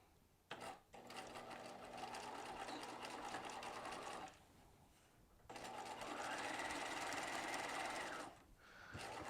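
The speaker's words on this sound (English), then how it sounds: "Let's go ahead and stitch that." A sewing machine stitches a dart in a sleeve with two steady bursts of quick, rhythmic whirring, close by and quiet. There is a short pause between the two runs.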